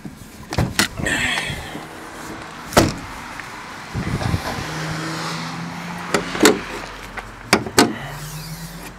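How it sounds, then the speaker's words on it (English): A hood latch pops and clunks on a 2007 Dodge Charger R/T AWD with a 5.7 Hemi, amid several sharp metallic knocks and thuds over steady outdoor background noise. "There, just pop the hood quick."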